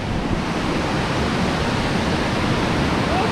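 Water rushes over Hurricane Falls in Tallulah Gorge, a loud, continuous broadband roar that stays steady throughout with no clear voices over it.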